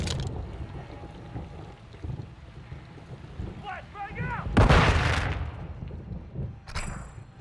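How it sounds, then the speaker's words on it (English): Gunfire crackles through a Modern Warfare 2 firefight on veteran difficulty, with a loud burst of shots in the middle and another sharp volley near the end over wind and rumbling ambience. "Are they shooting at me?"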